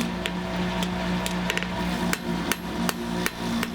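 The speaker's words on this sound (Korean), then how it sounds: "망치 소리도 이제는 제법 가볍고 경쾌하게 들립니다." A blacksmith hammers metal at a forge in a traditional smithy, sending sharp, ringing strikes at an irregular pace over a steady low background hum, fairly close and with no talk.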